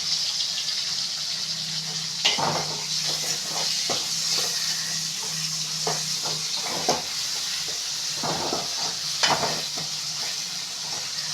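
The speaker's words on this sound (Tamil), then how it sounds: "ஒரு சின்ன தக்காளியை நம்ம இது மாதிரி கட் பண்ணி போட்டு வதக்கிக்கலாம்" Chopped tomato sautéing in a pan for fish kulambu, a steady close sizzle with scattered stirring clinks and scrapes throughout, no talking.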